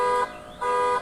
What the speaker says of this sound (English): horn honking again and again